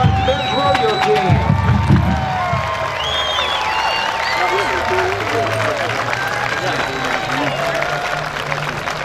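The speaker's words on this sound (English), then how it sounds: "Give a big round of applause for the national champion, UT Martin's men's rodeo team." A rodeo arena crowd claps and cheers loudly for the national champion UT Martin men's rodeo team, a dense continuous roar of applause with whoops and voices mixed in throughout.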